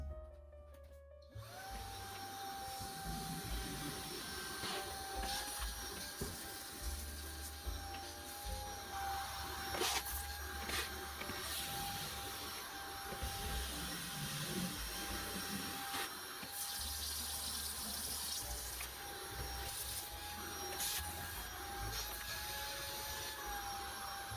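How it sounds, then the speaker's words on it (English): A Shark vacuum fitted with a crevice tool runs steadily and close by throughout, a continuous whine and motor drone as it works along baseboards around a house. "I will take my Shark vacuum with the crevice tool"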